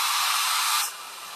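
A hair dryer blows steadily and loudly over chalk paste on an ice skates craft project, its broad airy hiss holding for most of the moment before dropping to a softer, lower setting.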